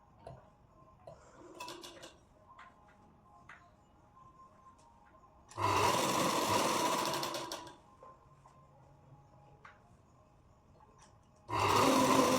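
A sewing machine stitching a blouse runs in two loud bursts of rapid whirring, one lasting about two seconds and another starting near the end, separated by quiet handling clicks.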